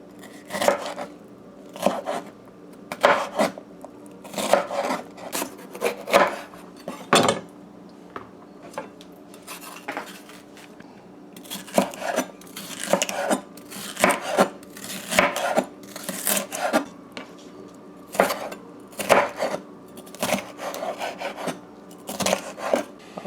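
A knife chops bell peppers and other vegetables on a wooden cutting board in bursts of quick, sharp taps separated by short pauses, close and clear with no talking.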